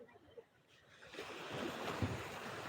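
Sea waves wash onto the beach at Old Digha in the evening with a broad rushing hiss building gradually, faint and distant, with some wind noise on the microphone.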